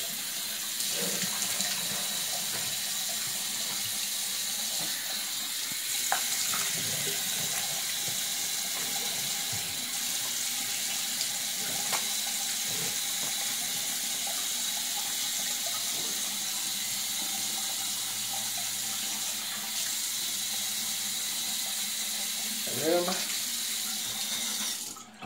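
Tap water runs steadily into a sink in a continuous hissing, splashing stream, close and fairly loud, with faint clinks and brief muffled sounds under it.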